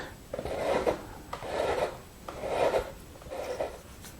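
A hand tap cuts threads in a wooden vise nut block, giving four even rasping strokes about a second apart, close and moderately quiet, with no voices.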